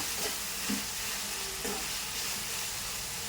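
Tomatoes with a little salt softening in a pan make a faint, even hiss of frying close by, with a few quiet, muffled stirring bumps and no talking.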